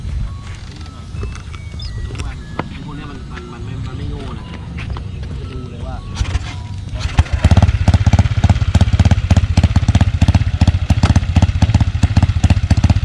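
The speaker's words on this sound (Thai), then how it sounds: "เดี๋ยวฟังเสียงเครื่องยนต์เลยดีกว่า" A Honda PCX scooter with a front-mounted radiator, 60 mm piston, lengthened stroke and genuine titanium exhaust idles loudly in a workshop with a rapid, choppy pulse after people talk for several seconds.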